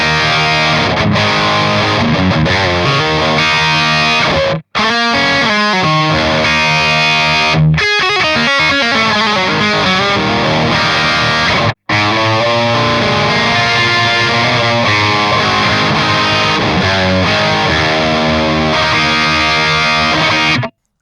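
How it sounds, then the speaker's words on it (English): Distorted, driven tone from a PRS McCarty SC56 electric guitar on the bridge pickup: a loud, dense, continuous riff of chugging chords and single notes, tight and close, broken by a few short stops. "Now let's switch to a dirtier tone."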